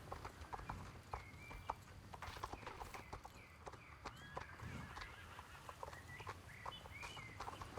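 Horse hooves strike the ground in a steady rhythm during a dressage canter-walk pattern, faint and somewhat distant beneath outdoor ambience and occasional bird calls.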